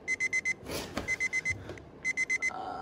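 An alarm clock beeps in quick bursts of four, repeated three times over a few seconds, loud and close, with brief rustling and noise between bursts.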